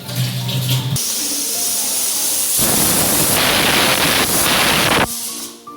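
Water pours into a pressure cooker holding soaked chickpeas with salt and turmeric, a loud rushing splash lasting a few seconds after some brief clattering handling sounds.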